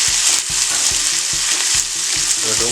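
Chopped onion and garlic fry in a pan for a pigeon pea and brinjal curry, a dense close sizzle broken by regular scraping strokes of a spoon stirring roughly every half second, with no talking.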